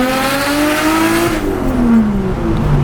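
A Nissan R32 GTR with a single Garrett GTX3582R turbo, around 600 horsepower, revs loudly and close by, its engine pitch climbing steadily before easing back down, with no talk over it.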